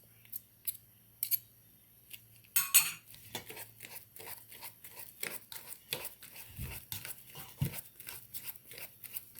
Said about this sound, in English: I'll use my fork so I can crush up.